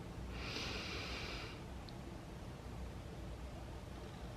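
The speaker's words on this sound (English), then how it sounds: "Inhale. And exhale. Last one, make it deep." A single deep breath in, a soft airy hiss lasting about a second, close and faint against quiet room noise.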